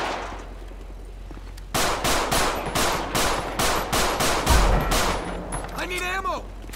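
Gunfire in GTA 5 with the LSPDFR police mod, a loud close burst of rapid automatic shots rattling for several seconds in a steady stream, then trailing into other game noise.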